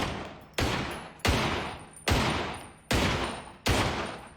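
Gunshots in an episode of the Hannibal TV series, with six loud sharp shots at a regular slow pace, each followed by a long decaying echo.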